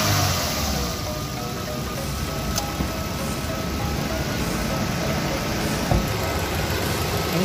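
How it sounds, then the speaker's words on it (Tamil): A 2020 Maruti Suzuki Dzire compact sedan engine runs steadily at idle, a low continuous hum and rumble with no talking. "நம்ம இந்த வண்டியை ஸ்டார்ட் பண்ணி பார்ப்போம்"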